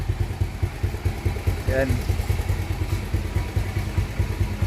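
A motorcycle engine runs at a steady, rhythmic idle close by with pulsing low chugging, while someone talks over it.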